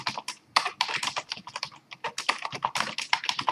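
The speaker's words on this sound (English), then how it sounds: "I'm just finishing up the typing here." Rapid, close typing on a computer keyboard, a dense irregular patter of crisp key clicks with brief pauses between bursts.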